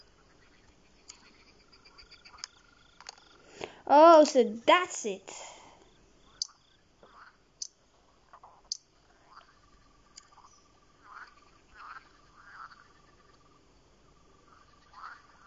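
A frog creature in the Lost Lands video game gives a warbling croak that rises loudly for a couple of seconds, followed by faint clicks and chirps amid quiet game ambience, with brief speech.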